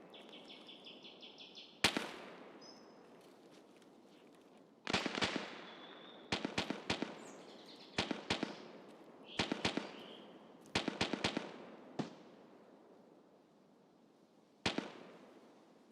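Distant gunfire in the Escape from Tarkov video game comes in repeated bursts of rapid sharp cracks, separated by quiet gaps, over a faint steady background.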